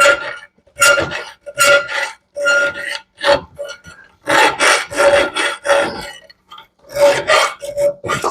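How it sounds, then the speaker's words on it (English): A metal file works a steel fixture table jig in repeated rasping strokes, roughly one or two per second, each a loud, close scrape separated by brief pauses. "I know it's not the proper way to use a file"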